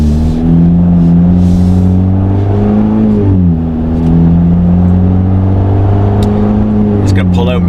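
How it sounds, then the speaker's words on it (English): A Jeep Wrangler JL with a 2-liter turbo engine and MBRP off-road exhaust pulls out onto a highway, a loud, steady droning growl that dips briefly between gear shifts, recorded close from inside. "Let's see what the MBRP off-road sounds like on the 2-liter turbo."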